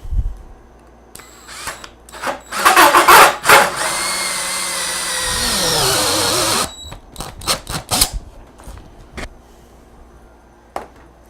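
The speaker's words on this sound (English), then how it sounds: "go ahead and drill that out." A power drill bores a hole through a router plate clamped to a workbench, with a few seconds of loud steady whirring that winds down, framed by handling clatter and knocks.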